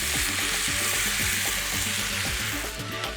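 Rice for paella frying and sizzling in a pan with dry white wine and vegetable stock, a steady close crackle with stirring scrapes throughout and no talking.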